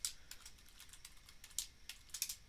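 Quick bursts of keystrokes as a terminal command is typed on a computer keyboard, irregular clicks in short runs at moderate level with no voice.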